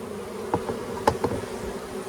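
Honey bees from a strong, healthy farm hive buzz in a steady close drone, with a few louder passes as individual bees fly near, and no talking.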